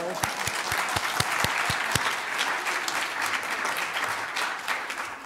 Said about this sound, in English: we'd like to just welcome you with a little round of applause